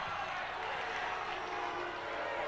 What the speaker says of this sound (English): Crowd doesn't like that, of course.